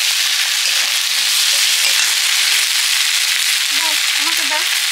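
Cumin, coriander and mustard seeds sizzle steadily in hot oil, a dense continuous frying hiss throughout, with faint clinks of a spoon and small crackles toward the end.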